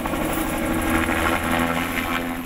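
Helicopter rotor blades thud loudly and continuously over a Christmas tree harvest, the turbine chopper close by, lifting slings of cut fir trees while crews work below, a steady pulsing roar with no voices.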